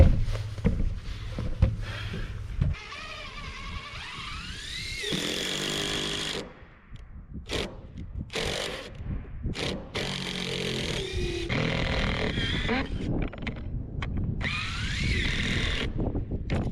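Cordless drill or impact driver driving screws into SIPs roof panels on a DIY house build, with several loud whirring bursts of varying pitch separated by short pauses and clicks, close by and without talk.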